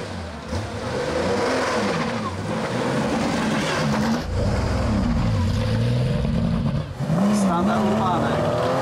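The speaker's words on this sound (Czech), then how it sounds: "Je to nádherný stroj so štartovným číslom 287, je to Porsche" Porsche 911 RS race car, start number 287, climbing a hill course at Nová Bystrica: a loud, close engine revving up and down through gear changes, pitch rising and dropping repeatedly, with a commentator talking over it.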